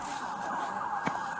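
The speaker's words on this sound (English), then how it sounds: "Oh, it is rescue ambulance." An ambulance siren wails steadily at moderate distance, a sustained emergency-vehicle tone holding through the short stretch, at the scene of a stabbing.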